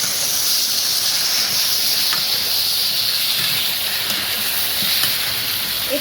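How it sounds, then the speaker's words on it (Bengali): Ridge gourd and tomato pieces frying in a pan with potatoes, a loud continuous hissing sizzle that stays even throughout, with no voices. "ঝিঙে আর টমেটোটা দিয়ে এবার আমি কষবো।"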